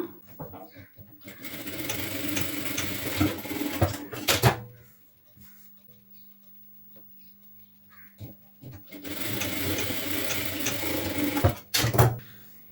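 A sewing machine stitches blouse pieces together in two steady bursts of running, separated by a quiet pause with a few handling clicks.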